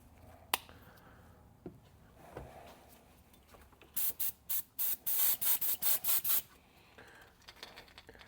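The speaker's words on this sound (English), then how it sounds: "So you do have to spray it a little higher pressure." Airbrush spraying paint at about 40 PSI onto a glide bait lure, hissing in a rapid series of short, even bursts, near and fairly loud, after a few quiet taps and clicks.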